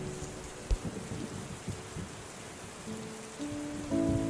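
Rain patters steadily under low rumbles and thuds, with a soft tonal hum creeping in near the end; no voices.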